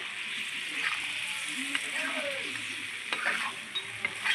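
Taro and potato stirred through hot oil in a curry pan, a steady broad sizzle with soft scraping strokes and small clinks of the utensil, close and continuous throughout.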